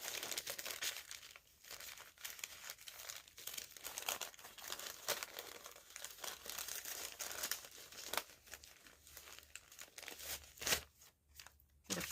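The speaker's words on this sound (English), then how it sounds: "That's coffee dyed note paper." Crinkling and crumpling of coffee-dyed note paper being handled up close, a dense run of rustles and crackles with a few sharper tearing-like bursts and short pauses toward the end.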